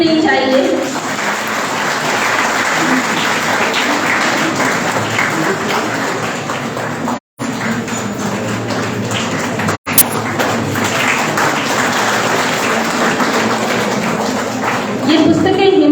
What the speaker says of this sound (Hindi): हमारी तालियां थमनी नहीं चाहिए।